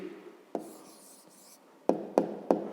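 A pen or pencil writes an answer by hand on paper in a quiet room, with a soft scratching stroke followed by three sharp taps near the end.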